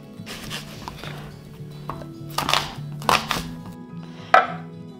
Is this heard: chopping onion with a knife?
yes